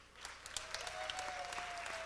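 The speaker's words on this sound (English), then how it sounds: "a round of applause, a very, very difficult job for the judges tonight" Applause for the judges at a drag pageant crowning, a soft, distant patter of clapping from the audience with a faint steady tone running underneath, continuous for about two seconds.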